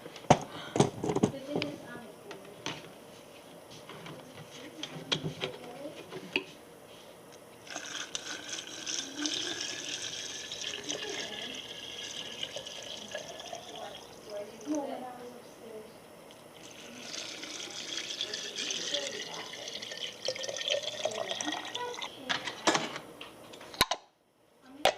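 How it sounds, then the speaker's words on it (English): Apple cider vinegar is poured into a jar in a close, gurgling stream that rises and falls over about twenty seconds. Some clinks are heard along the way, and a voice speaks now and then. "now we fill with apple cider vinegar"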